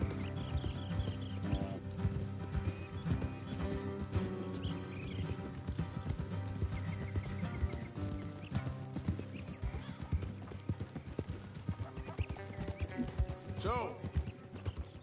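Horse hooves clip-clop with an occasional neigh in Red Dead Redemption 2, mixed under game music and character talk, steady and fairly close throughout.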